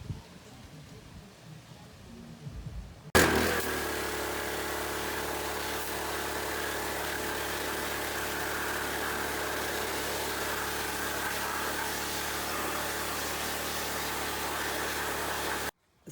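A high pressure washer cuts in abruptly and sprays a degreased Nissan Silvia SR cylinder head, a steady, loud droning motor hum with a constant spray hiss that runs unbroken and then stops suddenly.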